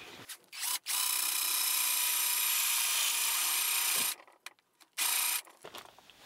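A power drill bores a dowel hole into wood, whining loudly and steadily for about three seconds, cutting out briefly, then running again in a short final burst.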